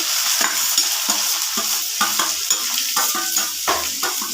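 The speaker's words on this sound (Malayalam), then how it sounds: "എണ്ണ ചൂടായി വന്നിട്ടുണ്ട് കടുകിട്ടു എന്നിട്ട് കറിവേപ്പില ഇട്ടു" Mustard seeds and curry leaves fry and crackle in hot oil in a home kitchen, with a steady bright sizzle and repeated scraping stirs of a spoon against the pan, close and loud with no talking.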